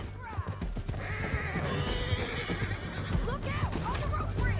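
A horse in the video game Red Dead Redemption 2 whinnies loudly and close up while hooves clip-clop steadily underneath, with game voices talking over the ride.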